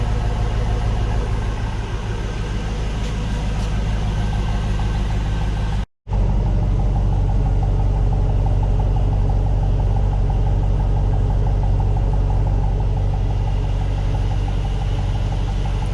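A car engine idles through a Total Flow muffler exhaust, a steady low rumble with a faint rhythmic pulse, close and alone, with one brief break partway.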